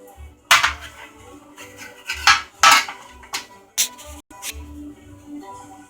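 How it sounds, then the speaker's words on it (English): A serving utensil digs freshly cooked corned beef out of a hot metal pot, giving close, irregular clanks, scrapes and clinks of metal on metal in short bursts with brief pauses between them. "We're digging it out for the first time I've ever cooked the corned beef."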